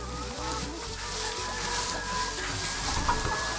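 Hens clucking as they leave the coop on a farm, with faint, scattered clucks under a busy, noisy background.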